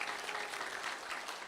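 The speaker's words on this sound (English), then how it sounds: "give them a round of applause to all the schools" Audience applauding at a school district storytelling event, a continuous, dense patter of many hands clapping at moderate volume with no talk over it.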